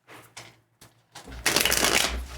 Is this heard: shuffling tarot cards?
yes